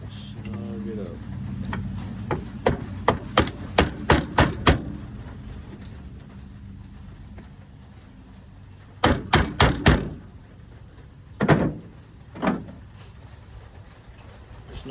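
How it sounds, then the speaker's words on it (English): A flathead screwdriver gives a paint rig fitting a series of sharp close taps, first a quick run of about eight knocks, then a second burst of four and a few single taps after a pause. "we're just going to give it a couple taps"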